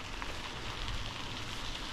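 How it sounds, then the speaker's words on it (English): Steady rain hisses while cycling the Pine Creek Rail Trail through Waterville, Pennsylvania, a continuous, fairly faint wash of broadband patter and noise with no voices. "It's raining less,"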